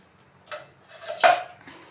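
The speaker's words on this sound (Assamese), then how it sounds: "এয়া ঢাকনি লগাই দিছোঁ" A metal lid set onto a cooking pot of long beans simmering over a gas flame, giving a soft clink and then a louder, ringing clatter near the middle, close by and with no voices.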